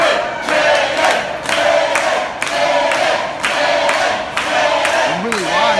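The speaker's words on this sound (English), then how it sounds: "getting the crowd firmly behind Jaden." A packed house at the NYWC Sportatorium during a pro wrestling tag match, the crowd cheering and chanting in loud rhythmic bursts roughly every second, with a voice talking over the noise.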